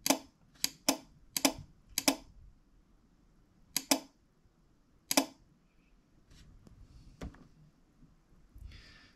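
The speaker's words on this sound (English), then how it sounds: "you can see that relay clicking on and off whenever AFR goes over 15" Relay switched on and off by an air-fuel ratio gauge when the ratio passes 15: a run of crisp, close mechanical clicks in irregular clusters, then softer faint ticks and quiet background noise, with no talking.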